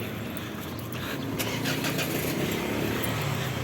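White multi-cab vehicle engine starting, a short cranking burst that settles into a steady mid-pitched idle, heard outdoors with light rain and no voices.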